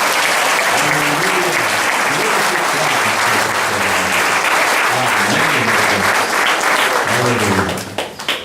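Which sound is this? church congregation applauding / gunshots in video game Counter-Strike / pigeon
church congregation applauding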